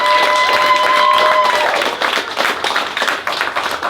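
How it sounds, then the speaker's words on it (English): Wedding guests applaud the couples in a loud, close round of clapping, with a brief held tone at the start and then dense, uneven claps that taper slightly toward the end. "give a round of applause to show our love and support for our beautiful couples today"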